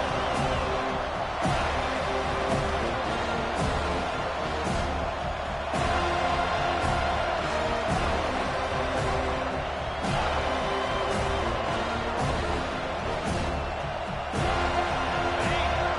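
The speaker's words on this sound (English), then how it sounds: "This crowd even louder now on 2nd down as they try to hold on." A football stadium crowd during an Oregon versus FSU game roars steadily on second down, a dense, sustained wall of noise with occasional whoops and surges.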